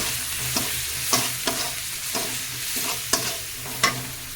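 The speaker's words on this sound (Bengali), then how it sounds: "মশলাটা দিয়ে আবার একটু ভেজে নেবো" Ground spice masala fries in hot oil for a tilapia curry with a constant close sizzle, broken by regular scraping strokes of a spatula roughly every half second, fairly loud, with no voices.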